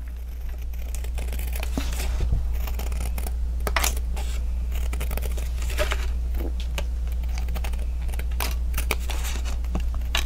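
Scissors snip through paper for a mini album page, a series of irregular crisp cuts and rustles close by over a low steady hum.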